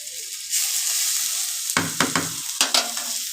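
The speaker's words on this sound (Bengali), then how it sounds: "এবার আরেকটু নেড়ে নিচ্ছি এগুলো সব একসঙ্গে।" Spiced yam and prawn mixture with ginger-garlic paste, ground spices, salt, turmeric and sour yogurt frying in a pan: a steady close sizzle, then several scraping stirs over the last half of the clip.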